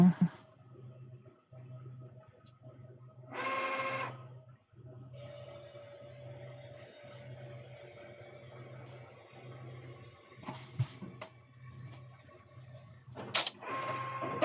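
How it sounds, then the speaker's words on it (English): An Epson F3070 commercial direct-to-garment printer runs a shirt print with a low steady hum, broken by short mechanical whirs and clicks as the carriage moves, quiet and close. "This is an Epson F3070. This is their commercial direct-to-garment printer."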